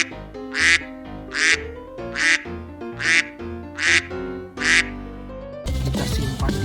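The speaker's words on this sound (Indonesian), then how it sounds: "Ada indukan bebek dan 2 anaknya." Ducks quack in five loud, evenly spaced bursts, a mother duck with two ducklings, over a plinking tune of a toy animal truck, then a dense burst of noise at the end.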